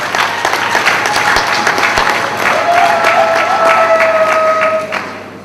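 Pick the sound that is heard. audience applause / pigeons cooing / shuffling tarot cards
audience applause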